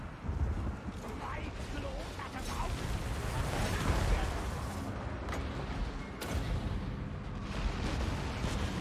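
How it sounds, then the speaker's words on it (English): Artillery fire in the fantasy strategy game Total War: Warhammer 2, with dense, continuous battle noise of booms and gunfire rolling steadily throughout, sharper blasts punching through near the middle and end. "Hit the handgunners with the artillery now."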